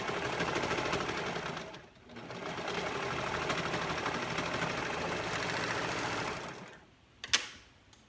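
A cover stitch sewing machine runs steadily on dark teal fabric, a fast mechanical whir and rattle that pauses briefly, resumes, and ends with a sharp click.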